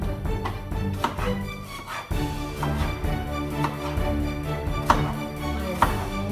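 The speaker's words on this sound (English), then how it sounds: "I'm not turning the pan on until I have the onions and the peppers cut and in there" A kitchen knife slicing onions and peppers on a cutting board, with repeated close chopping taps under steady background music and no talk.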